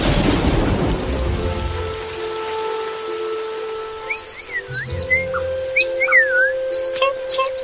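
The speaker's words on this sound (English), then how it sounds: "A boy is wet from rain." Steady rain and a low rumble of thunder in an animated children's story, loud at first and easing off, with high bird chirps appearing toward the end.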